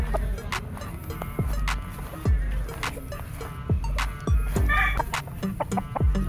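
A native yellow-legged Claret gamefowl rooster clucks in short, repeated bursts up close. Other birds call faintly in the background.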